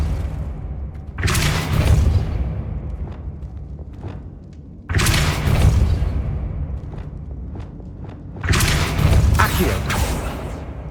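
Depulso spell cast in Hogwarts Legacy lets out three heavy, booming magical blasts, each a loud burst that fades into a rumbling tail, spaced a few seconds apart.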